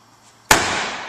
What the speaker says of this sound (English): you want to hear the foot hit the platform at the same time the elbow turns over